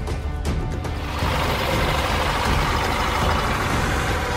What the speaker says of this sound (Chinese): 经过三吨重卡车的碾压，生态科技仿生木依然完好无损